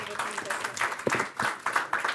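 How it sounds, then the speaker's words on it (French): An audience at a health conference round table applauds in a steady burst of clapping, while a host keeps speaking over it. "On vous applaudit."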